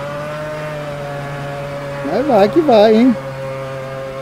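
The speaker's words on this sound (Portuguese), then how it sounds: "De motor de Fiat a motor de Fórmula 1 no Omegão." Formula 1 engine fitted in a Chevrolet Omega drift car, heard as a steady droning tone with a short burst of rising and falling revs in the middle, while someone speaks briefly over it.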